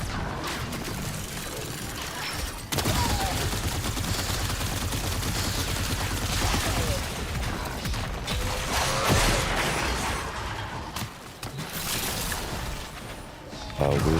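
Weapon gunfire in the Warframe video game, dense continuous shooting and mechanical clatter with crashing impacts, loud and near, persisting across most of the fourteen seconds with brief drops.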